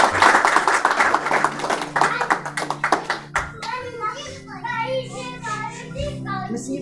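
A church congregation clapping together in praise, a rapid, loud burst of many hands that thins out after a few seconds as voices and a sustained musical tone take over.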